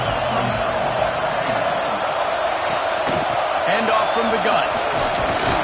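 Stadium crowd noise roars steadily at a college football game between the Alabama Crimson Tide and the Virginia Tech Hokies on third down, a dense wash of cheering under a commentator's voice throughout.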